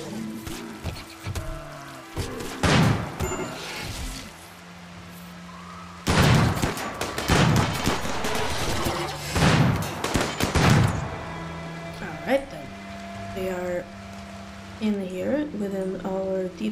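In the colony-building video game Rimworld, gunfire crackles in two dense volleys of rapid, overlapping shots while a voice talks over the fight.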